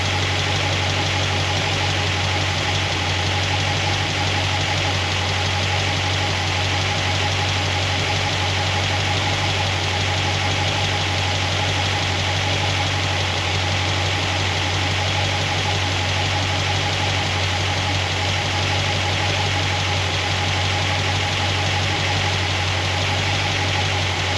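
A car engine fitted with solid roller lifters idles steadily while warming up, a loud, close, continuous rumble with a constant even tone throughout and no talking.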